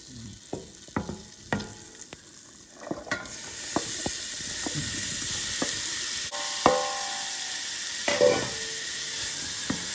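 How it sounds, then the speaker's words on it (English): Two stalks of celery, a medium onion and two garlic cloves sauté in butter, giving a continuous frying hiss broken by close, irregular clicks and scrapes of stirring. "I'm going to put it in the butter and saute it"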